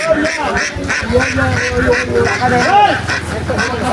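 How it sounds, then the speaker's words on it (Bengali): Full-grown ducks quacking at a livestock market, several birds calling loudly and close in rapid overlapping bursts, mixed with people talking nearby. "আর এগুলো তো মানে বয়স্ক হাঁস তাই না?"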